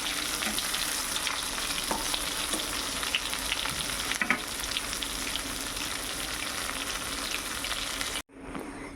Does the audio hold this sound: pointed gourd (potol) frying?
yes